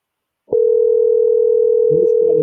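A telephone dial tone starts abruptly and holds as a steady clear single tone while a number is called back, with a voice speaking faintly underneath toward the end.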